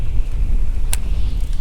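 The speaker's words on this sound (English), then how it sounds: "This wind has picked up really bad." Strong wind buffeting the microphone on a kayak fishing outing, a steady low rumbling roar with a brief higher hiss partway through.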